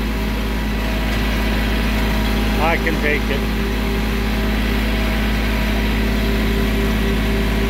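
A tractor engine runs steadily on a driveway, a constant low mechanical drone throughout, while someone speaks briefly over it.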